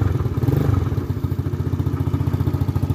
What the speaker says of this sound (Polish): Skuterek odpalony. Wszystko działa.